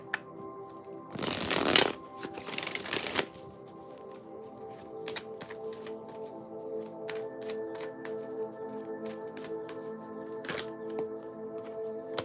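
Tarot cards are riffled and shuffled close by in two quick crisp bursts, followed by softer taps and card handling against a faint hum.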